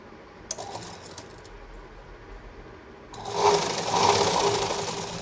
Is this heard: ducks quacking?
no